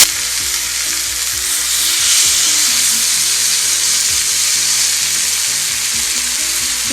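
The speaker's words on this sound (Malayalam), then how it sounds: "അപ്പൊ നന്നായി ചൂടായതിന്റെ അതിലേക്ക് നമ്മള് ഫിഷ് 2 എണ്ണം അതിലേക്ക് വെച്ച് കൊടുക്കാം കേട്ടോ" Two fish pieces fry on a tawa in hot coconut oil over a medium flame, making a loud, close, continuous sizzle and crackle that runs alone without a break.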